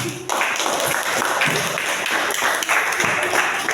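Applause from a classroom audience after a student group finishes its presentation, a dense, steady wash of many hands clapping close by at even loudness for the whole stretch.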